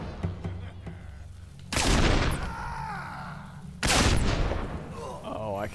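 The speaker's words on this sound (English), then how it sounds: "Oh, I love this gun. Listen to that." In the video game Fable 2, a gun fires two loud, explosive bursts about two seconds apart, each with a ringing, decaying tail. Faint clicks come before them and a brief voice sounds near the end.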